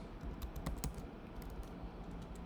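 Computer keyboard typing code in a Flutter tutorial, rapid quiet key taps in quick bursts, close and steady, with no voice over them.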